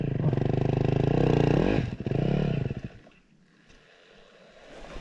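A small motorcycle ridden by a beginner on a snowy slope idles loudly nearby, its pitch rising and dipping as the clutch is let out, then dropping away to quiet outdoor ambience.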